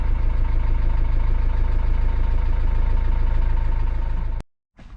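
A Ford Transit Mk7 van's engine runs at a steady, loud, close idle just after firing up with a replaced ignition switch, a continuous even rumble that cuts off abruptly near the end.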